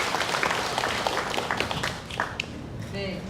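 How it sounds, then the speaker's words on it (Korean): Audience applause for a panelist's introduction at a community forum in Eunpyeong, a dense patter of clapping from a seated crowd that thins out toward the end. "박수 좀 부탁드리겠습니다"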